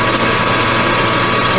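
A machine spins at about 200 RPM while working aluminum, giving a loud, steady mechanical hum and whir with no breaks.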